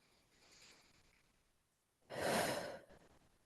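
A single audible breath during a calm relaxation exercise: a faint inhale early on, a pause, then a louder, breathy exhale like a sigh, close to the microphone.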